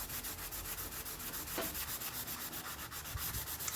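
Chalk paint being sanded over a raised stencil pattern on furniture, a fast rhythmic back-and-forth scratchy rubbing, close and steady with no talk.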